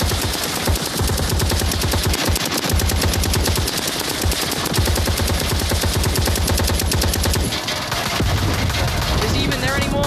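Rapid, continuous automatic gunfire from dual-wielded guns in a video game set aboard a tanker ship, loud and dense with hardly a pause, over faint background voices.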